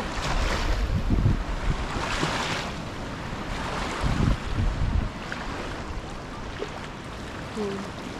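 Sea waves off Kauai wash and surge repeatedly, with wind buffeting the microphone; swells build and fade in irregular rolls.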